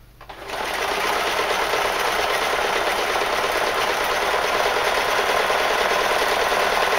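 A sewing machine stitching a trouser belt starts up and quickly settles into a fast, loud, steady whirring run that continues without pause.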